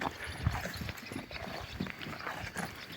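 A 12-13-year-old mare's hooves clip-clopping at a walk, a few soft irregular thuds against a quiet outdoor background.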